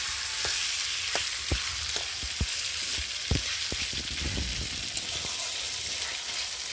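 Chicken frying in oil in a pan, giving a dense continuous sizzle with scattered sharp pops and crackles like raindrops, the spattering growing busier midway through.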